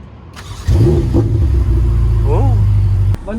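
A Ferrari GTC4Lusso T engine cranks and fires at close range, settling into a loud, steady idle with a brief rev in the middle before cutting off abruptly.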